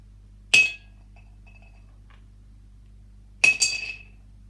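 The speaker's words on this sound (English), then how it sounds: "you hear a nut drop into that pot" Nuts drop into a pot twice, each landing as a sharp, bright clink with a short rattle, separated by a few seconds of quiet.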